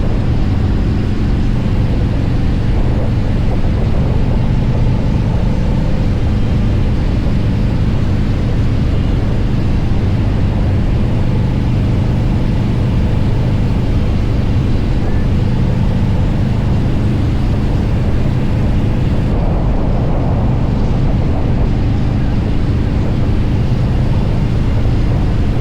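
A turbocharged motorcycle racing at speed, its engine a constant, loud, close roar buried in heavy wind rush that never lets up.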